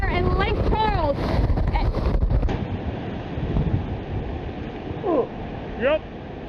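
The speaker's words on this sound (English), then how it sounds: "I think we're getting a little bit of a wind shift here as that eye comes out through" Hurricane wind gusting and swirling around a building in Lake Charles during the eye wall, a heavy roaring rush of wind noise under the microphone, with voices talking over it.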